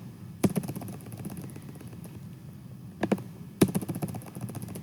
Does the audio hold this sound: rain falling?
no